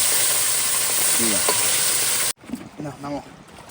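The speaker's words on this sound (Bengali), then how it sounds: "এবার সব মাছ ভেজে নি একবারে" Fish frying in oil in a pan, a steady loud sizzle close by that cuts out and drops to quieter sizzling with some stirring, while a person speaks over it.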